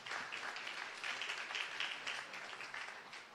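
A church congregation claps for children leaving the service, a quiet, distant, steady wash of applause that continues without pause.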